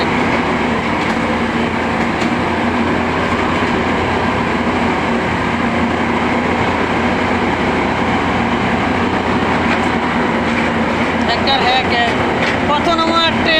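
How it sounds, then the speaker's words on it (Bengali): A train passes through a railway station with a loud, continuous rumble and clatter that holds steady throughout, and high metallic squeals rise near the end. "কত নম্বর ট্রেন যে আসে রে ভাই, আমরা বর্তমানে স্টেশনে আছি"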